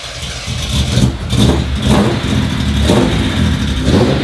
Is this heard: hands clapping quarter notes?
no